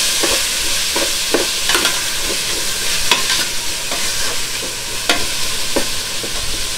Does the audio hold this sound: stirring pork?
yes